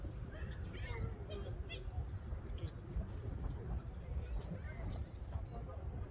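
Wind buffets the microphone in a steady low roar, with faint voices and scattered clicks underneath.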